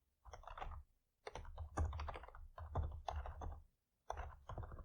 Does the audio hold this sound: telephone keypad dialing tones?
no